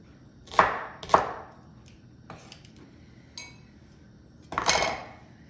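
Ingredients for a homemade peanut sauce being crushed in a kitchen, heard as a few sharp clattering knocks, two quick ones close together, then lighter taps and a longer grinding scrape, near and clear with no talking.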